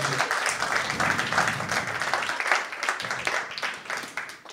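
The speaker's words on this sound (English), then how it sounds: "Oh, that's definitely worthy of an applause break." A comedy club audience claps for an applause break during a stand-up set, a fairly faint, steady wash of many hands lasting several seconds with no voices on top.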